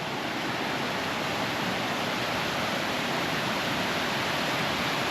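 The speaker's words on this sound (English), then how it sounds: "So I'll take you by this waterfall real quick." A waterfall roars in a constant dense rush of white water, loud and unbroken, with no voices over it.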